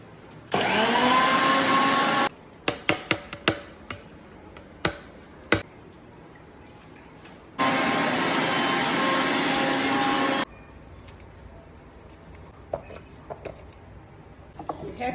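A Preethi mixer blender runs in two loud, steady whirring bursts of a couple of seconds each, with clicks and taps of handling between and after them.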